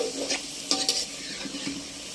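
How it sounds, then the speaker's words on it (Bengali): Potatoes frying to brown in a pan on an outdoor clay stove, a steady sizzle broken by a few spatula scrapes and light clinks against the pan. No voices are heard. "আলুটাকে ভেজে নিচ্ছি, একদম বাদামি বাদামি কালার করে ভাজবো"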